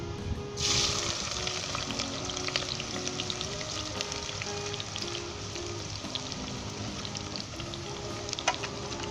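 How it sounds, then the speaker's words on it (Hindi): Continuous close sizzle of onions frying in hot oil, crackling steadily with occasional faint clinks and stirs. "प्याज को आप सुनहरी कर लें।"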